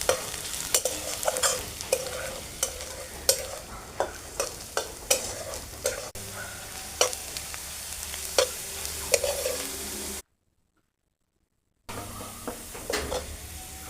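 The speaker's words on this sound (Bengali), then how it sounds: "পেঁয়াজটা একটু সময় নিয়ে ভাজতে হবে।" Onions fry slowly in oil in a kadai for biryani while a spatula stirs them, steady sizzle punctuated by regular scraping strokes, close up, with a brief silent gap near the end.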